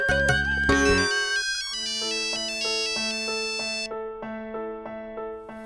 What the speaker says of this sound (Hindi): अरे त्रिलोकी जी का फोन है